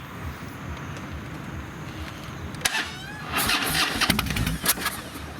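A 2015 Harley-Davidson Fat Boy motorcycle cranks and fires up, a brief starter whir followed by the engine catching and revving unevenly, fairly close, with a few faint voices around.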